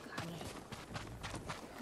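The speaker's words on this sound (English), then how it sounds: "So our horse's name is Kage" A horse gallops in the video game Ghost of Tsushima, its hooves making a quick rhythmic clatter of repeated thuds beneath a faint voice and game ambience.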